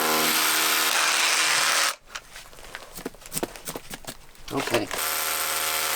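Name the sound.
impact drill drilling into granite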